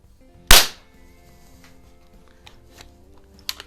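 A Marksman model 2004 air pistol fires a single sharp, loud shot, followed by quiet handling noises and a fainter click near the end.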